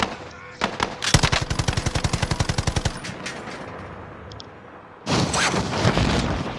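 Gunfire rattles in the shooter game Call of Duty Warzone: a long rapid burst of automatic rounds in even succession, with scattered single shots before it and a heavy roar of further firing after a short lull, loud and close.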